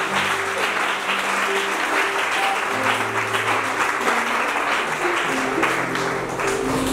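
A large audience applauds at a Bible contest held in a French-speaking church, with steady, dense clapping that carries on without a break, loud and close.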